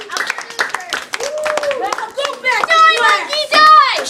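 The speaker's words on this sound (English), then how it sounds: "give him a round of applause" Children clap in a lively, uneven burst at close range, with kids' excited voices and shouts over the clapping.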